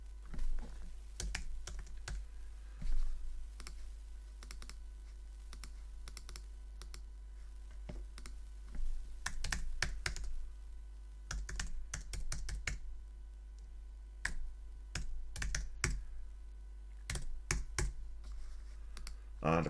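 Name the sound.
typing on a computer keyboard to fill in a sign-up form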